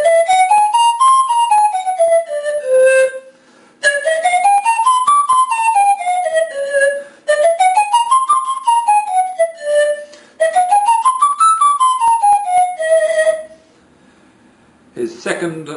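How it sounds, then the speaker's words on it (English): Breathy panpipe tones run up and down a whole tone scale, four sweeping runs separated by short pauses. "play synthetic scales on the whole tone panpipes"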